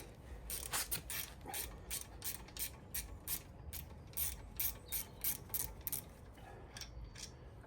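Repeated ratcheting clicks from a wrench loosening a brake caliper slider bolt on a Mercedes CLA front brake, arriving in quick irregular bursts, fairly close and quiet with no talking.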